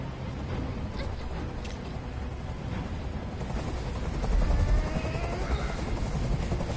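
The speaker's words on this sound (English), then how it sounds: "I can't stand that noise anymore. Tell that helicopter to get out of here." Helicopter rotor noise in the Detroit: Become Human video game, a steady loud chopping drone that swells slightly toward the end, with game sounds mixed in.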